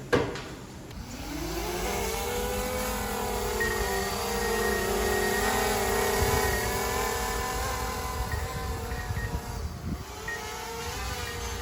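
Drone hovering and flying over a house roof during a home inspection, a steady whining propeller buzz with shifting pitch that stays loud and close throughout.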